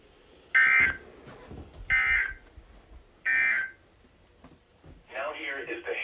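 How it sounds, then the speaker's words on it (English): A NOAA Weather Radio test broadcast sounds three loud, steady electronic beeps of about half a second each, spaced roughly a second apart, with a voice speaking between them, followed by a warbling data-burst tone. "NOAA Weather radio warning alarm device."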